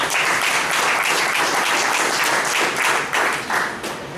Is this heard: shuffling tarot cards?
no